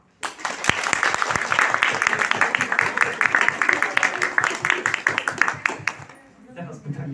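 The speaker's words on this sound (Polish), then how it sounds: "o oklaski proszę fanów thrillera." Thriller fans at a crime vs. thriller debate at the Kraków International Book Fair burst into lively applause, a close, sustained patter of many clapping hands that fades toward the end as voices come through.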